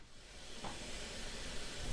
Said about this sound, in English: as y'all can probably hear, we've definitely got a good steam going